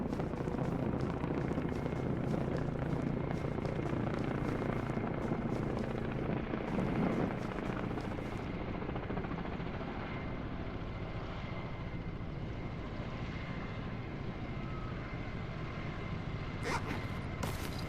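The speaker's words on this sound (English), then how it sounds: "A helicopter." Helicopter in the video game The Last Ski Trip, a steady rotor and engine drone that runs continuously at moderate level, with a few sharper rustling bursts early on and no talking.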